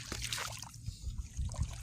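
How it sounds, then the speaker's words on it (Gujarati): Irrigation water trickles and flows along a channel through a green coriander field, a steady low burbling close by with no talk. "આ રીતના પાણી હાલે, એક બાજુ હાલે"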